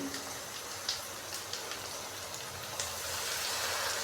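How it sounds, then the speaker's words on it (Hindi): A steady wet sizzle and hiss as water is poured into masala frying in a pan, with a few faint clinks and pops throughout. "और थोड़ा सा हम पानी डालेंगे साथ में"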